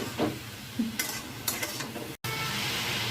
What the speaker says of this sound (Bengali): এখানে দিয়ে আমি ভালো করে এটাকে নেড়ে নিচ্ছি